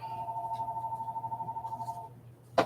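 Telephone in an indoor craft room gives a steady warbling electronic ring that pulses evenly for about two seconds, then stops, followed by a short clack, with no talk.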